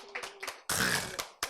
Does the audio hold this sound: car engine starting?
no